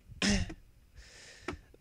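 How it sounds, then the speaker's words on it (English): Someone clears their throat twice, close up: a rough rasp, a short pause, then a second shorter one. "I'm gonna be clearing my throat kind of a lot too"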